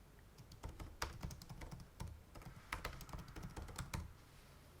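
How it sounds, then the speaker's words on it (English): Someone types filler text on a computer keyboard, producing a close, fast, irregular clatter of key presses in short bursts with brief pauses. No one speaks. "I'm just going to type in some spoof text."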